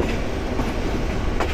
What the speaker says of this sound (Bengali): ট্রেন কিন্তু বিশাল কার্ভ নিচ্ছে